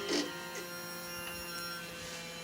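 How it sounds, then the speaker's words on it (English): Fuel pump of a Suzuki Bandit 1250 motorcycle priming after a tank cleaning, a steady faint electric whine and hum held for a couple of seconds with small clicks, no talking. "So I'm ready to prime the pump and start it up and see what happens"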